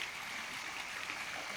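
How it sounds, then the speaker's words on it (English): Steady, continuous splashing and rushing of water from a fountain nearby at a riverside Buddhist temple in Bangkok, an even wash of sound with no breaks and no voices. "Water fountain."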